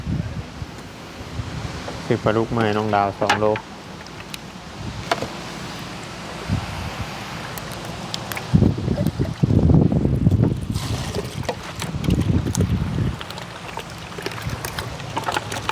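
Strong, dry winter-storm wind buffets a house, a rough, gusty roar with louder bursts near the middle and end, heard beneath people talking.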